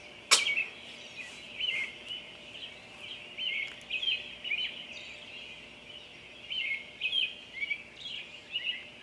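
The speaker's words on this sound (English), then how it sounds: "The birds are chirping" Birds chirp outdoors at dawn in repeated bright bursts, some near and some farther off, with a sharp click near the start and no talking.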